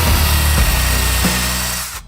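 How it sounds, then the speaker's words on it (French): A screwdriver cutting through layers of cardboard makes a loud, close grinding and whirring, a power-tool drone with rough scraping bursts that runs steadily and then stops abruptly at the end. "est-ce que j'ai trouvé un moyen de couper tout ça avec le tournevis?"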